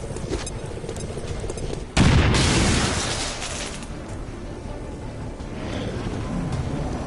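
A grenade blast in the video game XCOM 2, a sudden loud boom that hits hard and then rolls off into a long rumbling decay over steady background noise, with no talking over it.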